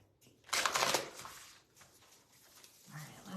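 A deck of oracle cards being shuffled by hand during a reading, a short burst of riffling and patter up close, then quieter rustling with a voice faintly under it.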